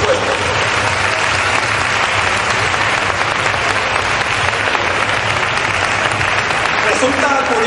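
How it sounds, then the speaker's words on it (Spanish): Sustained, loud crowd applause fills the whole stretch, steady and dense, greeting the members of a religious brotherhood during the opening proclamation speech of the 2011 San Pedro Alcántara fair. "Pido un aplauso para todos los miembros de la hermandad"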